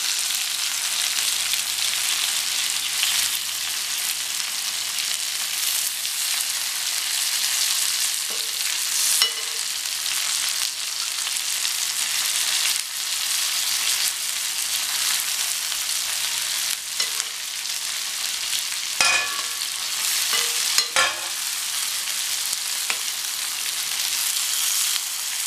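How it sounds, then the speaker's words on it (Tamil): Stuffed brinjals frying in a covered pan, a continuous close hiss of oil with a few sharp clanks as the pieces are turned over. "மூடி போட்டு கொஞ்ச நேரத்திலேயே இப்படி பரட்டி விட்டுக்கலாம் எல்லா கத்திரிக்காயவும்."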